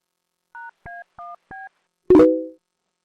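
Four short, evenly spaced touch-tone dialing beeps sound clearly, followed by a louder, longer tone that fades out, with no talking.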